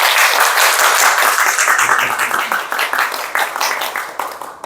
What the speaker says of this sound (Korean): 우리 위에서 잠깐 박수 좀